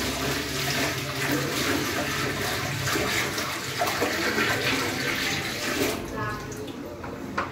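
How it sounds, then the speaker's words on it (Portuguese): A bucket of ordinary cold water poured into a clogged toilet bowl, a loud continuous rushing gush of water that steadily fills the space, then tapers off near the end. "você vai pegar um balde de água fria normal"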